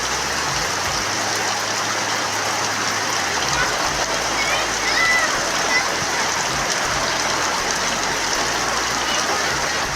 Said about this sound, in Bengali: বাইরে আবারও প্রচণ্ড পরিমাণে বৃষ্টি শুরু হয়ে গেছে